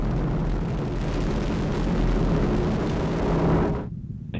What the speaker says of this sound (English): Ignition sequence start and liftoff of the SpaceX Falcon 9 rocket